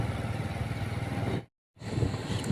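A motorbike carries riders toward the Maa Sarbamangala temple in Nabarangpur. Its engine drones steadily up close with a windy rush. The sound cuts out completely for a moment, then the same ride noise resumes.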